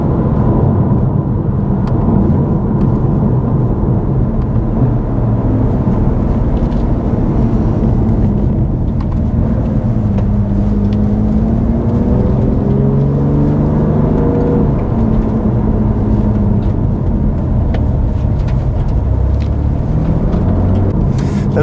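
A car drives through a series of corners, its engine note and road noise droning loudly and steadily, with the pitch sweeping up and down as the car slows and speeds up between bends.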